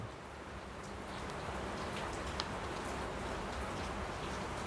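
Steady rain falls outside, a continuous hiss of drops on surfaces with faint scattered patters, holding an even loudness throughout with no one talking.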